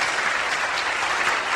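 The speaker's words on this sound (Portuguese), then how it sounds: "palmas aí para eles, Ricardinho." An audience applauds police officers of the Força Tática on a Brazilian TV news programme, with brisk, dense clapping heard throughout at moderate volume and no talk.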